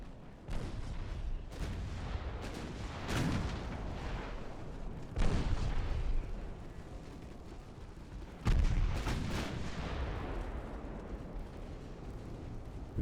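Battleship secondary guns fire in a naval video game set in 1897, sending several separate booming reports at irregular intervals over a low background rumble, with each blast trailing off.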